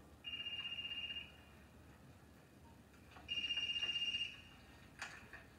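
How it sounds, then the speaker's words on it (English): A cell phone rings in two electronic trilling bursts, each about a second long with a short gap between, clear and close in a quiet room, followed by a brief clatter. "That's your phone."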